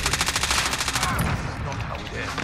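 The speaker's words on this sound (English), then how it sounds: "I'm getting sniped at." Rapid bursts of gunfire in a shooter video game, a fast rattling volley of shots up close that drops away into quieter scattered noise.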